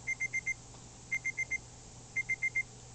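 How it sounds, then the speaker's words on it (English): An alarm clock in Café Enchanté goes off in three quick bursts of four sharp electronic beeps each, clear and steady against a quiet background. "Just then the alarm goes off."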